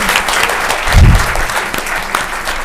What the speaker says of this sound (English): please let's give Miss Wicks a round of applause for all that she does